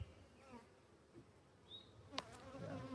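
Honey bees hum steadily around an opened hive during an inspection, a close, continuous buzz with a few louder individual bees passing near and one sharp brief knock partway through.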